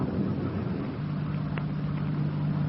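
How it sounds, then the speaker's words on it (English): A car approaching along a road on a stormy early morning with rain and wind, heard as a steady low engine drone that holds throughout, with no voices. "The car's coming up the road toward us, sounds like."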